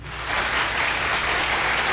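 Crowd applause played as a sound effect during a livestream, a steady wash of clapping that holds evenly loud for a couple of seconds with no voices.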